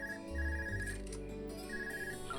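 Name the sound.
cell phone ringing in video game Trails of Cold Steel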